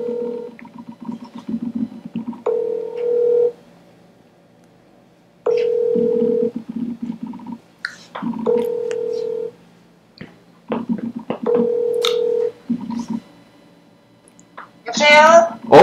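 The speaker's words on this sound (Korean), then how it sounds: "전화를 지금 하고 있는데요." A telephone rings back while a call is placed: repeated steady ringing tones in even bursts separated by silent gaps, clear and close.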